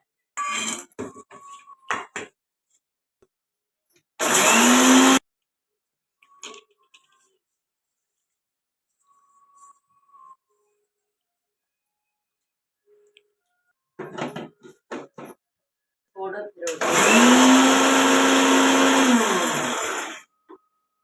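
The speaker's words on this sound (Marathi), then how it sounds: "हे थंड झालेलं आहे हे आपण आवडधोबड बारीक करून घेऊया" A kitchen mixer grinding cooled spices for a raw mango pickle coarsely, in two loud whirring bursts of about a second and then about four seconds, each dropping off sharply, with quiet clinks and rattles of the jar in between.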